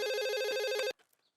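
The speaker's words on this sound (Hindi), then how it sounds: "हैप्पी अतिया, देख मैं ये फोन उठा नहीं सकता, तो ये फोन उठा।" A telephone rings loudly in a steady electronic trill for just under a second, then cuts off abruptly, leaving only faint trailing noise.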